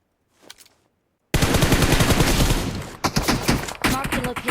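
Sustained automatic gunfire from an AMR in a first-person shooter game, loud, dense rapid bursts that cut in after a brief faint sound and continue with short breaks.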